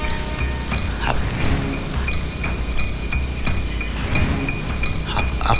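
Rain falls outside a house in a film scene, a steady loud hiss of drops with scattered brighter patters and a low rumble underneath, with no voices.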